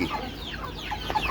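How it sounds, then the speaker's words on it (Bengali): Desi chickens, including several kept tied apart, cluck and chatter close by in a small backyard flock, a busy overlapping run of short calls with no talk. "ওই যে দেখেন এগুলো সব কোষা মুরগি"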